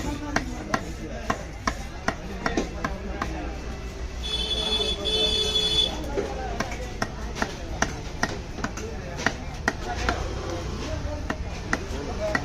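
A knife chopping a big squid into small pieces at the Kasimadu fish market, a steady series of sharp, evenly spaced chops on a board, with people talking and street noise in the background.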